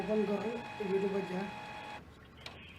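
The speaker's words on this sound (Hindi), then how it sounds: "ये नॉर्मल प्रिंटर की आवाज़ है" A printer runs with a steady mechanical hum and whine under a person talking, then the noise drops off sharply near the end.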